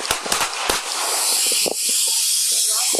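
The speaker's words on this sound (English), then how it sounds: "Shots fired by police." Police gunshots at a confrontation with a knife-wielding suspect: a quick series of sharp cracks in the first second, then a steady hiss of radio static with faint scattered noises.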